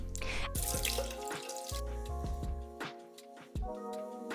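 Water runs in a bathroom during a morning routine, a steady broadband rush from a tap or shower with clattering knocks and splashes mixed in, close and fairly loud throughout.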